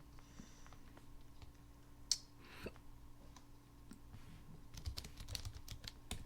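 Quiet, irregular clicks of a computer keyboard as someone types, soft taps in short bursts heard up close, with no talking.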